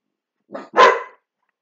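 Dogs give a quick double bark, one short yip then a louder full bark, close by and heard alone with nothing else around.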